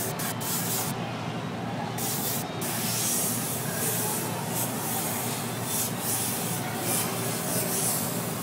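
Spray paint can applying graffiti onto a hat, a continuous airy hiss with brief breaks in the first seconds, close and steady throughout with no talk.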